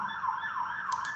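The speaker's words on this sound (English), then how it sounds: "excuse the sirens in the background" An emergency vehicle siren wails steadily in the background, its rising and falling tone continuous through the short stretch, moderately loud against a quiet indoor room.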